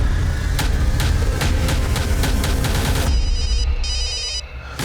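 A mobile phone ringtone rings in repeated bursts, loud and close, sounding on its own with no talk over it; the tone pattern changes about two-thirds of the way through.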